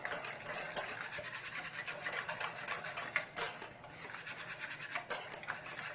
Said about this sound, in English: you just want to use a whisk and whisk everything up.